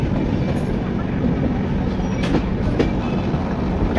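The 12246 SMVT Duronto Express runs at speed, a loud continuous rumble of wheels and carriages heard from on board, with faint rhythmic clicks over the rails.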